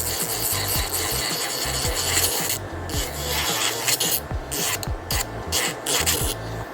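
An inexpensive electric nail drill grinds against a fingernail, giving a close, steady rasping whir broken by short repeated scraping strokes, with no voices.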